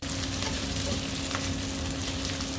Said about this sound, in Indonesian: Tumis sampai layu, sampai mateng.